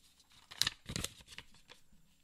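Paper name slips are shuffled by hand for a prize drawing, producing soft, close papery flutters and rustles in a few quick bursts.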